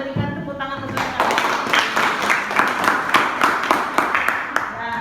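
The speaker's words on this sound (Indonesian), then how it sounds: "Mari kita berikan tepuk tangan untuk kamu." A school class applauding a student group in a classroom, a teacher's voice briefly first, then a second of sustained scattered clapping from many hands at moderate loudness.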